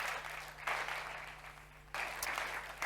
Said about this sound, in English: we have to give them a big round of applause, please